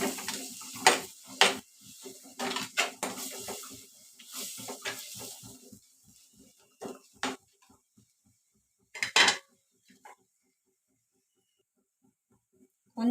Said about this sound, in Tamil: மசாலாலாம் சேர்த்து விட்டு நம்ம நல்லா கிண்டி விட்டுக்கணும்.